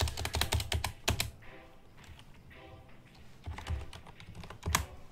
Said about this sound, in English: I'm typing in the name of the class